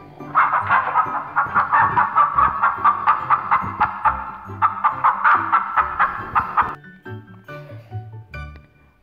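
Chickens clucking in a chicken coop, a rapid run of loud, sharp yipping calls repeating for several seconds before thinning out over light background sounds.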